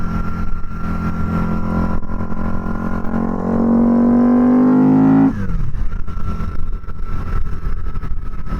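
A Harley-Davidson Night Rod Special motorcycle engine rumbles loudly, then revs up in a steady rising climb for a couple of seconds before dropping back abruptly to a lower throb. No one speaks.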